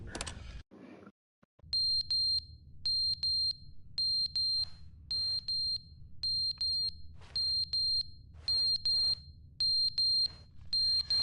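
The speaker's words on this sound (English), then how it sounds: "Oh, it's a fire alarm. Or some sort of an alarm at least." A fire alarm in the video game The Stanley Parable rings in an evenly spaced series of about ten bright electronic ding bursts over a low background hum, after a brief opening noise.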